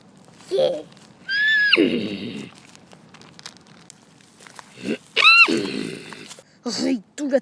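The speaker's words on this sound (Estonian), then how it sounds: "Oi, tulge tagasi, te lollakad hobused." Horses in a Schleich toy-horse play scene let out two loud, close, high whinnies that drop in pitch, amid short bursts of talking and some rustling.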